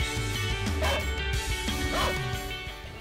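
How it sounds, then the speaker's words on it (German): A rescue dog in a forest barks loudly and close by, a few sharp barks mixed with yips and whimpering whines, with a faint voice in the background. "Der Hund bellt und der zeigt uns quasi,"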